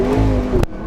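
McLaren 650S engine roaring at full throttle from a stop, a brief loud rising rev cut short by a sharp burst.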